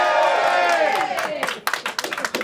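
A live crowd at a garage band show cheers and whoops, a blended roar that fades then breaks into scattered sharp claps and shouts, with voices mixed in.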